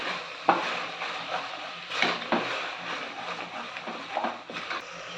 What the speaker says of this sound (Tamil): அடுப்பை சிம்மில் வச்சு நல்லா கிளறி கொடுத்துக்கலாம்